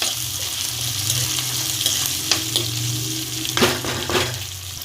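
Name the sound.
potatoes, onions and spices being stirred and fried in pan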